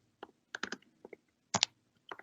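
Soft clicking taps in short irregular bursts, like typing on a phone screen, close and quiet with pauses between.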